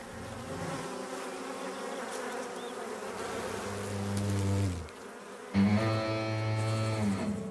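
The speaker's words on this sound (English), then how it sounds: "The bees counterattack," Honeybees defending their hive buzz loudly against attacking hornets, a dense, steady droning hum that swells, breaks off briefly, then resumes even louder and closer with strong, layered tones.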